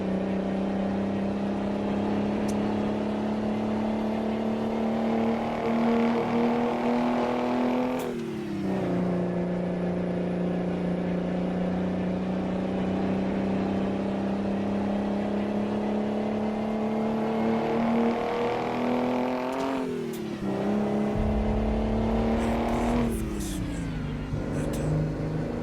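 An old Mack truck engine in a trucking game drones steadily under load, its pitch dipping and recovering at two gear changes.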